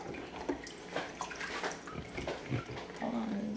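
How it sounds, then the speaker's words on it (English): Water splashing and sloshing as a baby girl is lifted and rinsed of soap in a bath, irregular close splashes and pours, with voices heard briefly. "Lift her up so I can rinse her because there's soap and water down there."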